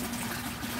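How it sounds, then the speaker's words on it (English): Water trickles and gurgles as it drains from a homemade flood-and-drain hydroponic grow bed through a siphon, in a brief, steady splashing burst. "you can hear the sound of the trickling water"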